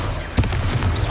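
Sharp fiery impact of the Confringo spell in the video game Hogwarts Legacy, a single close, punchy crack followed by a brief rumbling tail.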